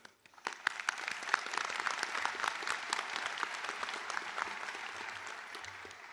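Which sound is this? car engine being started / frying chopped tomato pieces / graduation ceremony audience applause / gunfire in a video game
graduation ceremony audience applause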